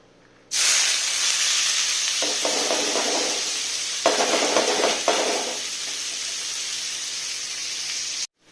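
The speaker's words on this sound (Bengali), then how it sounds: "এখন তেলটা একটু গরম হয়ে যাওয়ার পর এটার মধ্যে ভেজিসগুলো সব একসাথেই দিয়ে দেবো" Washed vegetables hit hot oil in a pan with a sudden loud sizzle that holds steady for several seconds, broken by a couple of bursts of stirring, then stops abruptly.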